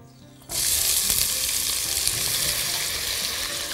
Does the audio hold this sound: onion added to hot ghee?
yes